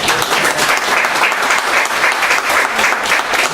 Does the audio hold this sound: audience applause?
yes